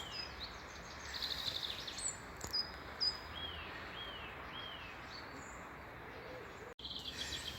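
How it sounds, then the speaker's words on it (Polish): Birds singing outdoors in a museum villa garden in Gorzów, with several clear repeated chirps and whistled phrases at middle distance over a constant faint insect-like buzz, with a brief knock near the end. "Proszę posłuchać, jak pięknie ptaki śpiewają."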